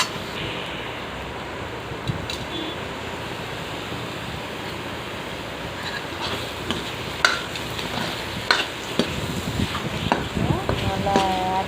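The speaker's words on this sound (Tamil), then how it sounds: "இந்த டைமில் 4 முட்டையை ஆட் பண்ணுறேன். ஒரு கிளறிக்கணும்." Four eggs stirred into an egg kurma in a hot pan, a continuous sizzle with scraping stir strokes and clatters growing busier toward the end, close by.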